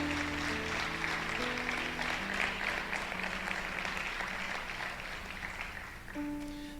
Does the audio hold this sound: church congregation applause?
yes